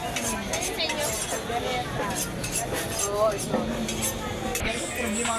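Clinking and scraping of a utensil stirring food in a pot, a busy, steady metallic rattle that runs on under lively nearby talk in a bustling eatery.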